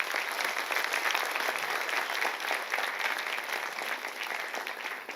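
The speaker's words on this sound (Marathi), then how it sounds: "परत एकदा टाळ्या उमटवू." Sustained audience applause fills a school's annual gathering at Aksharnandan Secondary School, a dense, even patter of many hands clapping at steady loudness for several seconds.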